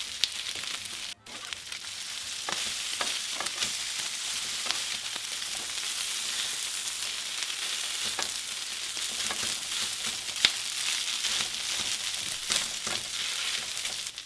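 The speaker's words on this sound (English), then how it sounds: "Y vamos a asar la birria. We want it to get toasted on each side" Birria beef sears and toasts in a hot pan, giving a continuous, even sizzle and crackle with scattered sharper pops and one or two clinks, and no talking over it.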